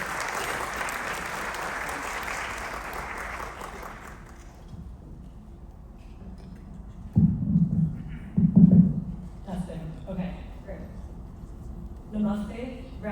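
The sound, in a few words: audience applause for a graduation speaker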